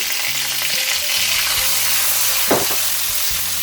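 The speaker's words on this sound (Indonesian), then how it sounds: "Ini ebinya mesti tumis sampai aromanya wangi ya" Dried shrimp (ebi) sautéing in a pan give a loud, steady sizzle with scraping stirs throughout and one sharper clatter near the end, and no talking is heard.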